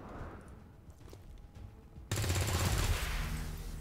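Soldiers opening fire on a transmitter relay in XCOM 2: War of the Chosen, a sudden loud burst of sustained gunfire kicking in partway through and holding steady, with quieter game ambience before it.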